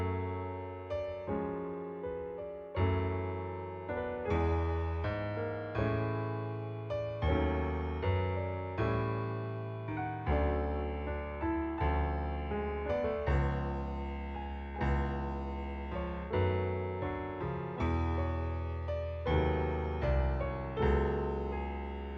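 A piano sketch played alone: a repeating rhythmic riff in the low register with chromatic passing tones and higher chords and melody above, moderately soft and evenly paced.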